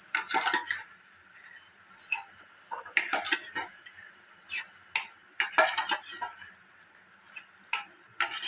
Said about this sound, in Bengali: ছোলা কুচি সব একসাথে দিয়ে দিচ্ছি